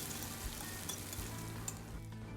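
A halwa mixture sizzles and fries in a hot pan over low heat after cardamom, a soft steady crackle with occasional spoon scrapes and stirs, close and quiet with no talking.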